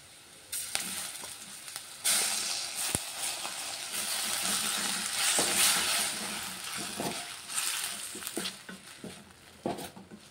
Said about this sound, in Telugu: పచ్చిమిర్చి ఇవైతే ఫ్రై అవుతున్నాయి ఉల్లిగడ్డలు.